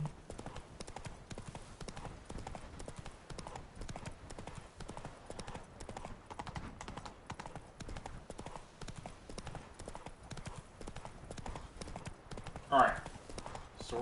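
Horse hooves clip-clop in a fast, continuous rhythm through The Witcher 3 video game, a steady moderate gallop with a brief whinny-like sound near the end, under occasional talk.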